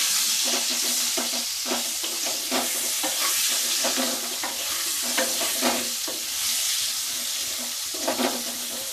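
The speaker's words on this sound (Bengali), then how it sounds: "এবার একটুখানি নাড়াচাড়া করে নেব" Potatoes fry in a pan with salt and turmeric while a spoon stirs them, giving repeated scraping strokes over a steady sizzle with no voices.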